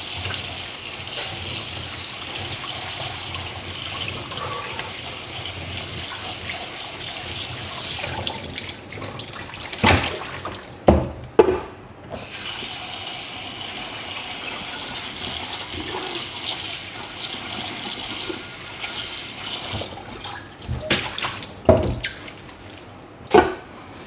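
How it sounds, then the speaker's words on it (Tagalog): Cold tap water runs over cooked pasta noodles in a sink, a continuous close splashing hiss broken by a few sharp knocks and clatters from handling the pot or colander. "i-wash natin siya with cold water para hindi siya magdikit-dikit"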